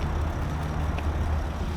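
Constant motorway traffic on the autostrada overhead a parking area near Trento, Italy: a steady low rumble of trucks and cars passing, moderately distant with no distinct events.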